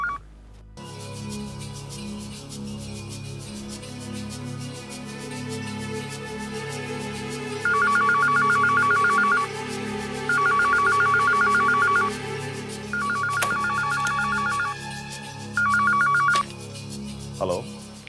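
A telephone rings in repeated electronic trilling bursts, four clear rings spaced a second or two apart, rising out of a busy background of dramatic music and a voice.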